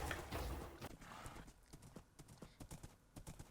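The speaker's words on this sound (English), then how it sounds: "I'm just gonna hop on my horse, and we're gonna explore." A horse's hooves clip-clop in a steady rhythm while it is ridden in Minecraft. The hoofbeats are close and fairly loud, with a rougher burst of noise near the start.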